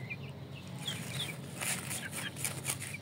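India Gigante chickens cluck softly and intermittently, short clucks and chirps scattered across a few seconds over a steady low background hum.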